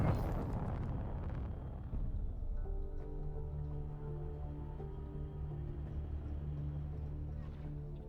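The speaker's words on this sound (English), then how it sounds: "It's actually shooting us." In a Kha'ak space battle video game, a turret fires on the ship, an initial heavy rumbling blast that settles into a sustained droning hum with tonal layers, moderately faint and without speech.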